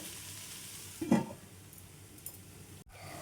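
A tomato and broad bean curry sizzles steadily in a pan over a medium flame. A spoon scrapes and stirs through it once in a brief, close swish, with no talking.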